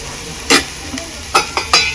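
Potatoes tossed and stir-fried in a pan, heard as a few short scraping, clattering stirs over a faint sizzle, close and moderately loud with gaps between strokes.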